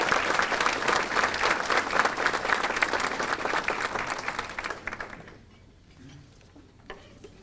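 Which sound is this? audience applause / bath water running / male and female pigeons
audience applause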